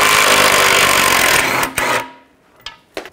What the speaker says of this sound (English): Take this shield off and there's four bolts. Use the 15 millimeter socket.